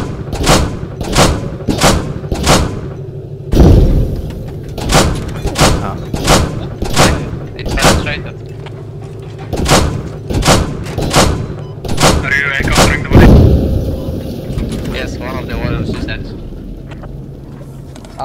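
Tank cannon shells fire and strike in a game pitting a T-62 against a Challenger: a string of sharp, loud blasts at a quick, regular pace, then scattered booms and a heavier impact, with voices talking throughout.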